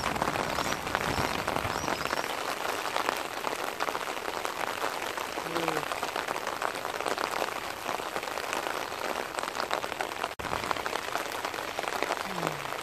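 Heavy rain pouring in metropolitan Sydney on a cold winter day, a dense, loud, unbroken hiss of water hitting surfaces close by, with brief faint chirps barely audible beneath it.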